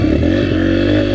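A dirt bike engine runs loud and close in a continuous, even drone for about a second, with a rough mechanical rattle layered over it and no voices present.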